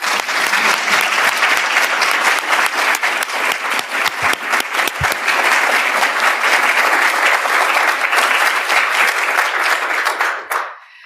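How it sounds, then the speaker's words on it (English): A large audience at a global health event applauds a donor family, producing dense, steady clapping that holds loud for about ten seconds before cutting off abruptly. "please let's take a moment to applaud their contribution"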